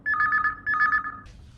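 A telephone rings on a phone-in radio show playing Chhattisgarhi songs: two clear, loud double-trill bursts close together, then the ringing stops.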